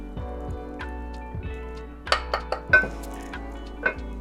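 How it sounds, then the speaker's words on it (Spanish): Wheat flour being stirred into melted turkey fat in a pan for homemade turkey gravy, with soft scraping and several sharp clinks of a utensil against the pan, close and fairly quiet. "Mezclamos para que no se hagan grumos."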